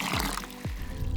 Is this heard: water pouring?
yes